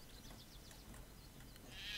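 A sheep bleats faintly in Craft the World, thin wavering cries over a low steady game background, with a rising hiss toward the end.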